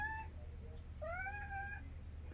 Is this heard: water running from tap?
no